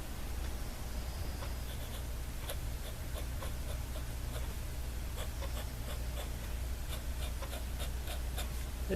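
Pen scratching and doodling across paper, a soft continuous rubbing with small ticks of strokes over a steady low background hum, close and quiet with no talking.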